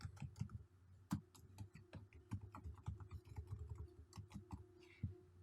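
Someone types an entry into an Excel worksheet on a computer keyboard, quick irregular clicks of keys close up, with a few louder taps standing out in a quiet room.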